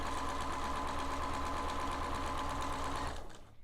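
Sewing machine stitching a narrow French seam in fabric, a fast, even mechanical chatter running steadily for about three seconds before slowing to a stop.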